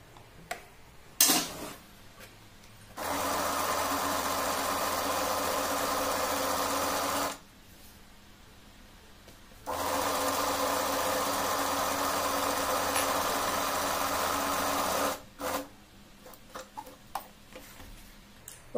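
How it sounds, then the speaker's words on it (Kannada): A sewing machine stitching an old shawl over a sponge, running in two steady buzzing bursts of several seconds each with a pause between, close and loud, and small handling clicks around them. "ಆ ಸ್ಪಾಂಜ್ ಮೇಲೆ ನಾನು ಸ್ಟಿಚ್ ಅನ್ನು ಹಾಕೊಂತಾ ಇದೀನಿ"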